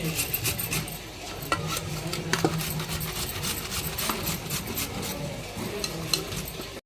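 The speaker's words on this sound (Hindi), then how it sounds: "1 घंटा तो लग ही जाएगा गाजर को घिसने में।" Carrots are grated by hand against a metal grater for carrot halwa in a home kitchen, giving a steady, close rasping scrape that runs without pause, with a low hum underneath.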